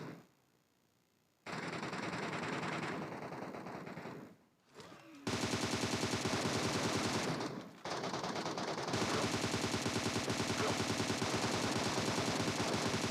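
Rapid automatic gunfire rattles in the PUBG Metro video game, coming as long, loud, dense bursts separated by brief pauses.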